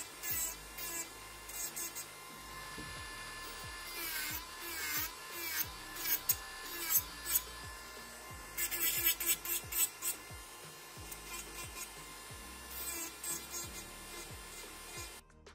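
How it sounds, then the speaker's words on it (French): Small hand-held sander buffing a Babyboomer gel nail set during a nail application, a faint rasping rub in short repeated strokes and bursts, with no talk over it. "Il faudra tenir la ponceuse bien à plat."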